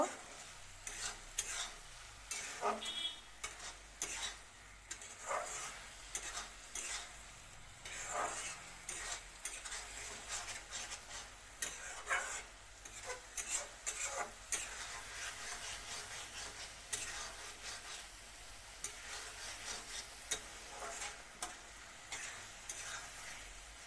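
Spatula scraping and stirring fried capsicum through spices in a pan, with steady sizzling and repeated scrapes running throughout, close and moderately loud, no talking.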